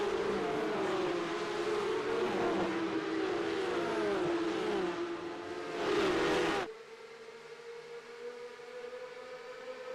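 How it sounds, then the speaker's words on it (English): Porsche Cup race cars in a racing game launching from the grid at Long Beach, a dense roar of many engines revving and rising through gears together, then cutting to a steadier, quieter single engine drone. "14 cars out of the 32 on the grid, waiting on the green lights, and there we go, racing at Long Beach"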